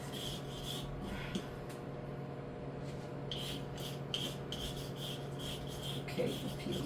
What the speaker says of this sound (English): I'm gonna peel my carrot